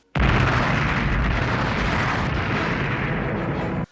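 A huge movie explosion in space from a Hercules film roars as one continuous, very loud blast that fills the whole stretch before cutting off abruptly.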